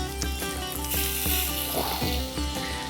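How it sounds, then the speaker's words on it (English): Bacon strips laid into a screaming hot pan give a bright, continuous sizzle with crackling pops, close and steady throughout. "Love that sizzle."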